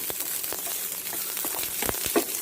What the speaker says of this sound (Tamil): பெரிய வெங்காயமும் பச்சை மிளகாயும் போட்டு வதக்கிக்கலாம்.